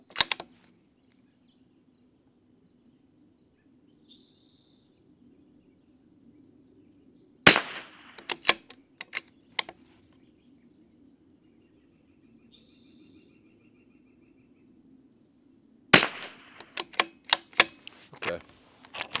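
Rifle shots at an outdoor shooting range with a Vudoo Three-60 rifle, three sharp cracks about eight seconds apart, each followed by quieter clicks and handling noise over a faint steady background hum.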